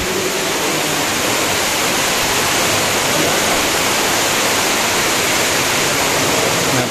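Loud, steady rush of an underground river flowing through a limestone cave with stalactites near Blitar, a dense continuous roar filling the space without pause or voices.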